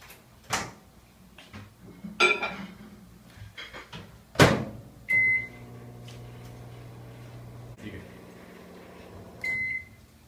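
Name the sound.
microwave oven heating milk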